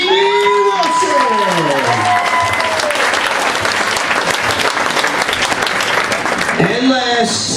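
Loud applause from a banquet crowd at a youth football and cheerleading awards night, steady dense clapping with scattered cheers, a voice speaking over the start before the clapping takes over.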